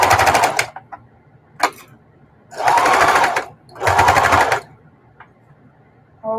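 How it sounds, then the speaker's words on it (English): A sewing machine runs in two sustained bursts of rapid stitching through a thick 3/4 inch mitered quilt binding seam, with brief clicks and pauses between the runs. "now we're going to sew a 3/4 inch seam"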